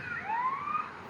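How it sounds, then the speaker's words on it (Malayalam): A police car siren in the GTA San Andreas video game, one brief rising electronic wail that sweeps upward and holds clearly over a faint background. "ഇത് സൈറൺ കേട്ട എല്ലാവരും അല്ലേ പോലീസ്"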